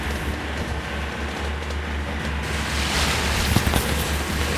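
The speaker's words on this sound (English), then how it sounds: "powering along at 9 knots into a stiff chop, with the twin engines pushing us along quite smartly" A twin-engine Shannon 52 boat powers at 9 knots into a stiff chop on Chesapeake Bay, with a steady low engine drone under continuous rushing water and wind noise.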